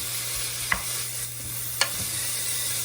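A wooden spoon stirs bacon fried rice in a pan over a constant close sizzle, with two distinct scraping knocks.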